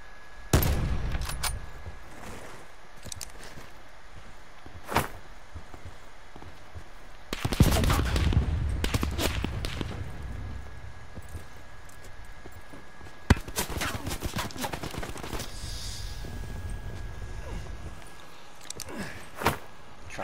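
Gunfight in Call of Duty: Black Ops 4, with sharp bursts of gunfire at the start, a heavier flurry of shots around the middle, and scattered single cracks and short volleys later, separated by quieter stretches of ambient game noise.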